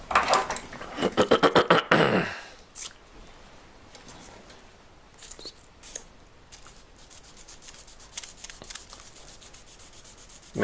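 Sandpaper rubs jewellery wire during straightening, with fast, loud back-and-forth strokes for about two seconds, then only faint scraping and light handling sounds.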